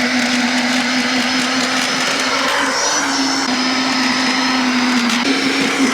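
A garden tiller engine runs steadily and loudly on a new garden plot, a constant droning hum with a slight wavering in pitch partway through, no voices.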